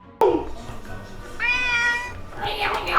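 A cat gives a couple of clear, drawn-out meows close by indoors, the second one rising and brighter, with faint voices and room noise around it.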